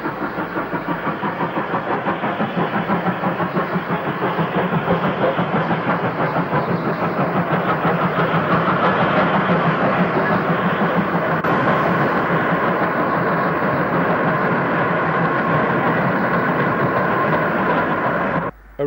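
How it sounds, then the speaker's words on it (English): Stanier Mogul steam locomotive 42968 hauls a brake van special eastbound on a 1960s Lancashire line, a loud, sustained roar of exhaust beats and rattling wheels that rolls on steadily for nearly twenty seconds before cutting off. "Stanier Mogul 42968 passed eastbound with a brakeman special"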